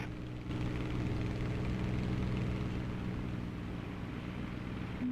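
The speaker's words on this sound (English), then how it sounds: "Another plane took off." A video game airplane takes off with a steady, moderately loud engine roar that builds after a brief quiet start and holds throughout, with no talk.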